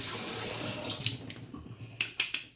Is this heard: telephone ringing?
no